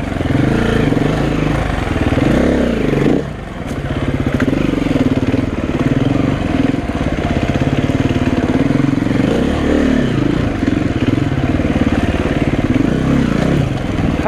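Off-road motorcycle with a hydraulic clutch climbing a rough canyon trail, its engine loud and close, rising and falling in repeated revs with a brief dip near the start.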